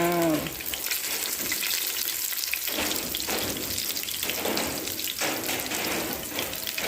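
Fish cakes made from minced small white fish sizzle steadily in hot oil, a continuous loud crackling hiss with bursts of spatter and no talking.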